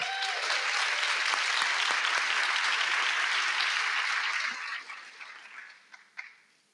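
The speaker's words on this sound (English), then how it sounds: "a huge round of applause for the Braver Angels team" A large convention audience applauds the Braver Angels team in one sustained, dense round, loud and steady before thinning into a few scattered claps at the end.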